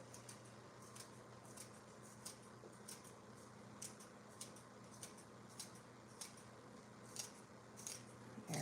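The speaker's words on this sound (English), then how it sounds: "we're just going to snip some up in here." Scissors snip fine green onions in a kitchen, giving quiet, light, irregular clicks spread through the clip over a low steady hum.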